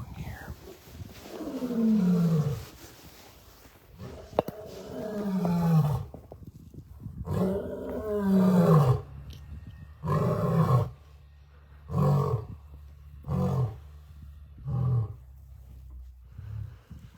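A lion named Gino roars at a wildcat sanctuary: long, deep groaning roars first, then a series of shorter rhythmic grunting roars that fade out, loud and close.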